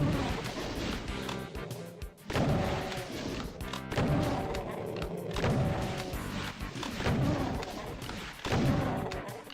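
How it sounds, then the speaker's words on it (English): Rocket launcher fire in the DOOM 2 video game: dense, loud explosive blasts and booms come one after another with game music under them, without a clear break. "Now is a great time for rockets."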